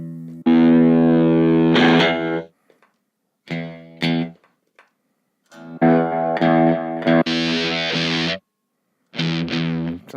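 High-gain distorted electric guitar playing heavy sustained chords in short bursts separated by silences, loud and close, with no talking.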